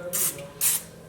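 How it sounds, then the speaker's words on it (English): Cooking spray hisses into a baking pan for cinnamon rolls in a home kitchen, two short close bursts separated by a brief pause, with no talk. "It's his turn to put the cooking spray in."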